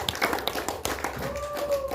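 A short burst of hand clapping from an audience at a village head candidates' campaign forum, brief and moderately close, with a voice briefly audible underneath.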